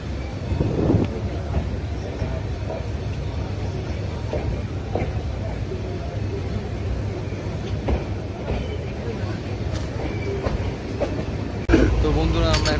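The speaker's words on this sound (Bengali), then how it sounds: "তো বন্ধুরা, আমাদের ট্রেন এখন শান্তিনিকেতন স্টেশন ছেড়ে দিল।" The Kanchan Kanya Express runs on after pulling out of Santiniketan station, with a continuous rumble and rhythmic wheel clatter heard from inside the carriage that grows louder near the end.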